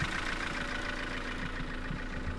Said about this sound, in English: the engine is an SR20 DET, so that's a turbocharged engine